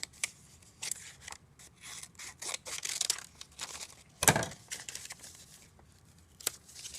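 Scissors snip a triangle out of black paper, with quiet close cuts and rustles of paper in an irregular run and one sharper crunch partway through.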